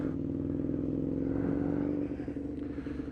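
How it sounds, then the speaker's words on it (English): Aprilia motorcycle engine droning steadily while riding in traffic, a loud continuous low hum that eases slightly near the end. "pause for Aprilia sounds"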